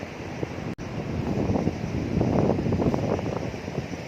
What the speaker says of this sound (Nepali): हावा चल्छ है